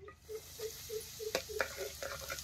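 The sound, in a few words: chilli chutney roasting in hot oil in a kadhai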